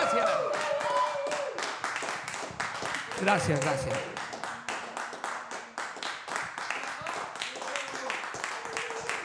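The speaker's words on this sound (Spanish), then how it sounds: "Gracias por sus aplausos." An audience claps at a concert, with sustained, fairly close applause continuing throughout as someone briefly speaks his thanks.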